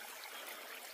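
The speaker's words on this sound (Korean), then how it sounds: "산에서 내려오는 물을 한번 들어보시고요" A mountain stream flows down near a rural vegetable garden in hot weather, a steady close trickling rush of water with no voices.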